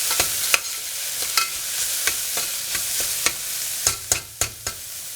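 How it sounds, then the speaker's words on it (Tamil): Finely chopped ingredients for a soya bean curry sautéing in oil in a pan, a soft steady sizzle punctuated by irregular clacks and scrapes of a spoon stirring, close and without talk. "இது பொடியாக கட் பண்ணி வைக்கிறதுனால நல்லாவே சீக்கிரம் வதங்குது"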